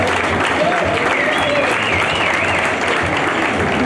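Loud, dense applause from an audience at a timber structure design challenge, continuous clapping with a few voices calling out over it.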